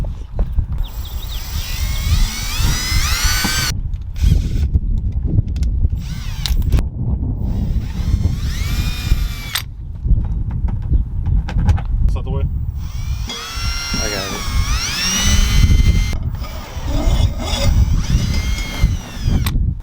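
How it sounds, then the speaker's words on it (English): A power drill whines in repeated bursts, speeding up and slowing down as it bores screw holes in a Nissan 350Z rear bumper, with people talking in between. "now I'm about to get ready to drill those holes out for the screws"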